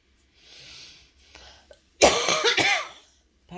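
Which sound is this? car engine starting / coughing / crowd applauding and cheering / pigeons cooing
coughing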